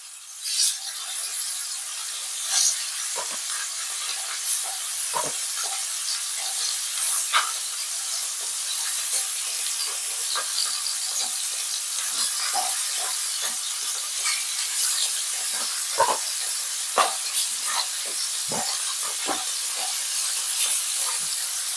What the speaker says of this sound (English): So we're gonna start them off in our oil.